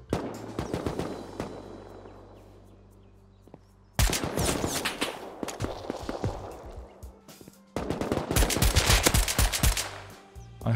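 Rapid bursts of AK rifle fire in the survival game Rust, loud sharp cracks in fast automatic strings across three dense stretches separated by brief lulls, with no voices.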